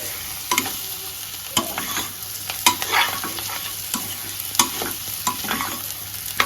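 Chili powder masala frying and being stirred in a pan for mango prawn curry, with a steady sizzle and scraping stirs coming at intervals. The sound is close and comes with no talk.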